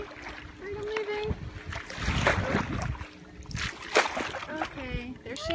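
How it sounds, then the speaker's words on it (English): Kayak paddle strokes dip and splash through water near a nest, with soft rhythmic swishes under wind noise on the microphone and bird calls; no speech. "Paddling away."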